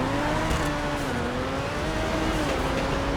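A Koenigsegg Jesko-style hypercar in GTA 5 Online accelerates with a steady, loud engine drone, its pitch slowly rising and dipping over a few seconds, with no talk over it.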